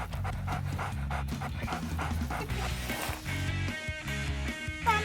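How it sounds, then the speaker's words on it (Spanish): A dog pants rapidly and close by during a walk through a forest near a lake, with a few soft whimpers and yips among the steady breathing. "Me está acompañando mi perro Matías."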